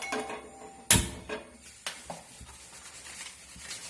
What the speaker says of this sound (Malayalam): അടുത്ത് നമ്മളൊരു ചട്ടി അടുപ്പത്ത് വയ്ക്കുക.